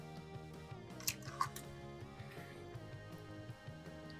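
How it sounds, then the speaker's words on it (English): A single raw egg drops into a bowl of maple cream cookie dough with a soft wet squish and brief drip, two quick faint splats over a steady background of music. "next thing we're going to do is add our egg real quick"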